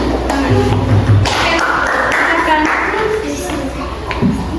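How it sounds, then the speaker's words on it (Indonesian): A group of students clapping in a classroom after a presentation, a burst of claps mixed with a teacher's voice and children talking, plus a few taps and thumps nearby. "Oke, tepuk tangan."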